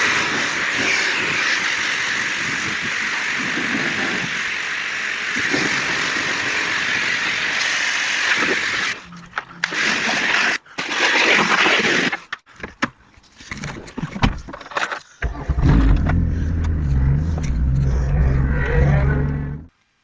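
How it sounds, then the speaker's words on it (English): Pressure washer spraying down a Vauxhall Nova SR, a loud steady hiss that breaks into choppy bursts as the trigger is pulsed, then a motor hum before cutting off abruptly. "pressure wash."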